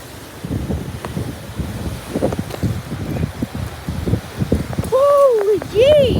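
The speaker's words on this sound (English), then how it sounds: "There's a 40-mile wind gust hitting the front of the house." A strong 40 mph wind gust hits the front of a house with a rumbling, buffeting roar that rises and falls in bursts, then turns to a wavering, whistling howl near the end.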